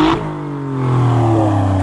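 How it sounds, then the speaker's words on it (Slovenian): An Alfa Romeo Giulia Quadrifoglio in race mode revs loudly nearby, its deep engine tone swelling and climbing in pitch over a couple of seconds. "ko pa vklopaš rejs, pa vse skupaj postane veliko glasnejše"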